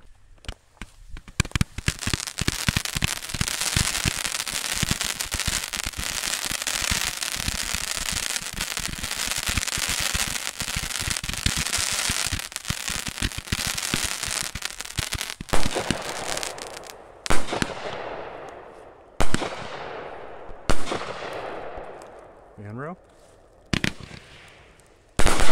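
Roman candle firework cakes, a Magnus and a Mad Ox, fire a dense, loud run of rapid popping bursts and crackles lasting several seconds. The salvo thins out into a few separate spaced pops and sharp reports near the end.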